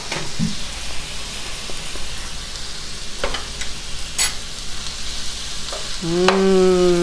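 Sausage and onion sizzle in a single pan for a pasta dinner, a close, constant crackle broken by a few utensil taps. A brief tonal whine rises over the frying at the end.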